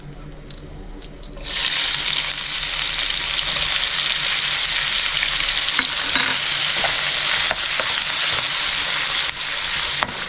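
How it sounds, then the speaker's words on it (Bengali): Chopped onions dropped into hot oil with whole garam masala spices in a pan, bursting into a loud, dense sizzle after a quieter start and crackling steadily, with occasional stirring scrapes and no voices. "পেঁয়াজটা আমি হালকা লাল করে ভেজে নেব।"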